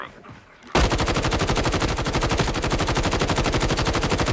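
Rapid automatic gunfire from a gun in a video game bursts in after a brief quiet lead-in, a loud, dense, evenly spaced stream of shots that runs without a break to the end.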